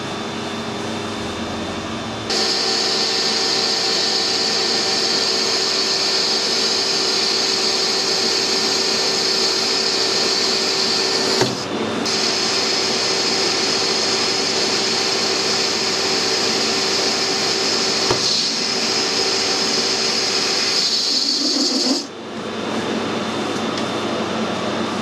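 Steady, loud machining of hard steel for a cylinder liner puller: a constant high whine and broadband cutting roar that runs for over twenty seconds, briefly dropping out once, then stopping near the end.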